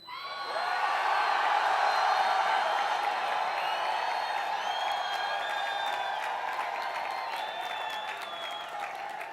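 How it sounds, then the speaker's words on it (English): Engineering graduates at a 2015 college commencement cheer and applaud in a large crowd, a loud sustained roar of clapping with whoops and yells that swells early and slowly tapers over several seconds. "So let us show her what engineers can do. One more cheer, please."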